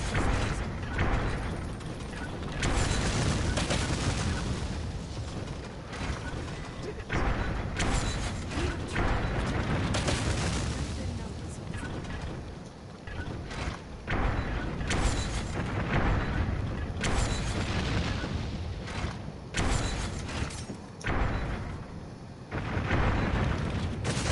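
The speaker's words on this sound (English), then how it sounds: "I have to shoot down their explosive bolts with my regular bolts." Mechanical clanks, creaks and dull booms from a Dragon's Dogma fight against the dragon Grigori, as bolts are fired to knock explosive bolts out of the air, with dense overlapping impacts and rumbling blasts throughout.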